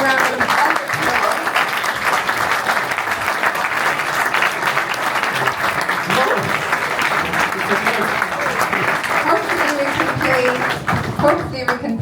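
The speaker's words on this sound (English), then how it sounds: "Please give him a warm round of applause." A crowd at a live chess event in Hamburg applauds loudly and continuously for about twelve seconds, dense clapping from a large audience with some crowd noise mixed in, tapering slightly at the very end.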